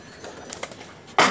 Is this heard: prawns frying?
no